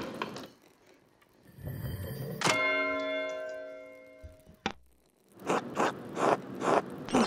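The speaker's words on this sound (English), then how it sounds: "That's the bell for sext." A game abbey's bell tolls for sext, a single loud ringing strike that holds a long, steady metallic hum and slowly fades, preceded by some mechanical rattling and followed by soft shuffling movement.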